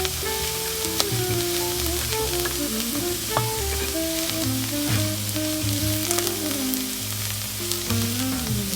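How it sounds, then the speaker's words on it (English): Fresh bacon bits sizzle loudly in a skillet, a dense, steady frying crackle with occasional stirring sounds, close and with no talking. "I'm going to add in my fresh bacon bits"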